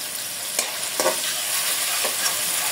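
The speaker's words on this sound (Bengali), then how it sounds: "তেল গরম হয়ে গেছে, পেঁয়াজ দিয়ে দেব।" Onions fry in hot oil in a kadai with garam masala and bay leaves, a steady close sizzle broken by a few soft stirring scrapes.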